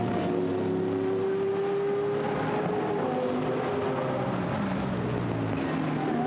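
GT race cars in the Blancpain GT Sports Club qualifying race at Brands Hatch, engines droning steadily as they run through Surtees to complete a lap, one rising engine tone standing out over the continuous roar.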